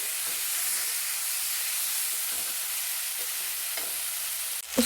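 Onions frying with turmeric powder in a wok hiss and sizzle steadily while being stirred, a dense continuous crackle with a sharper scrape right at the end.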